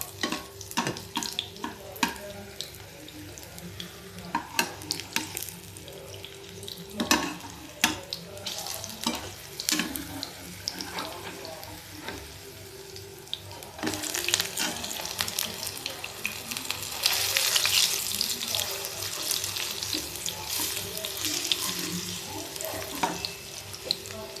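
Pumpkin flower fritters fry in oil with a continuous soft crackle and sizzle, and occasional louder pops and clinks from handling. The bubbling grows busier and brighter toward the end.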